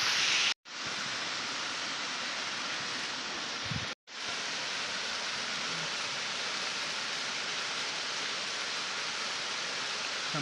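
Steady roar of a waterfall, a broad continuous rushing of falling water heard up close and loud, with two brief cuts to silence early on and no voices.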